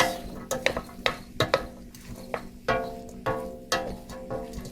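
Potato corn chowder being stirred in a pot, with a utensil knocking and scraping in irregular bursts against a steady background hiss, up close with no talk.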